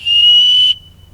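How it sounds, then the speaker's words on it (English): A small whistle on a survival bracelet is blown once, a loud, shrill, steady tone lasting under a second and then stopping abruptly, close to the mic. "Now let's check this whistle out."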